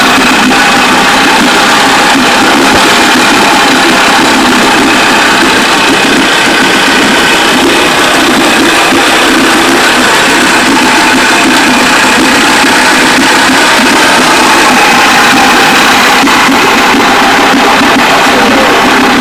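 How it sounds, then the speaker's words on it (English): A used outboard boat motor, bought cheap at a yard sale, runs steadily at idle for the whole stretch, a loud, close, continuous engine drone with no voices over it. "Nice running outboard for next to nothing."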